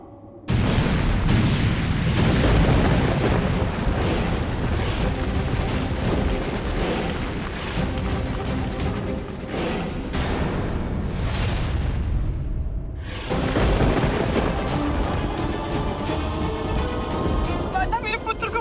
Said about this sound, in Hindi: शांत कैलाश पर यह विस्फोट की ध्वनि, ये ध्वनि कैसी है?